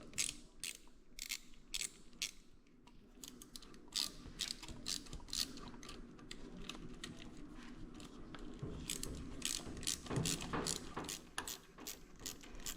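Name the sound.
tightening radiator hose clamp with ratchet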